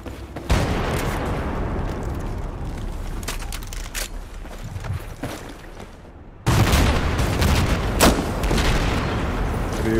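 Battlefield 4 gameplay with a vehicle being destroyed, loud booming explosions and bursts of gunfire, with a sharp, heavy blast roughly two-thirds of the way through that leaves a dense rumble afterwards.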